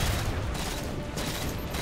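Mounted turret firing in Halo 4, a dense, continuous rattling burst of heavy gunfire, close and loud, running without pause for a couple of seconds.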